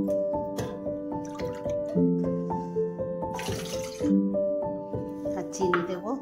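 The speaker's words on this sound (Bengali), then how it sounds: "এখানে 2 কাপ জল দেব" Water is poured into a pot to start a sugar syrup, splashing and trickling steadily as a voice talks over it, with a tonal hum running beneath.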